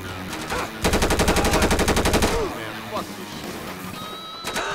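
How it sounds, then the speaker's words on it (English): Gunfire in the video game GTA 5, a loud rapid automatic burst lasting about a second and a half, followed by scattered shots and impacts, with a voice talking over parts of it. "Who's shooting? Shit. My guy's being shot by this fucker."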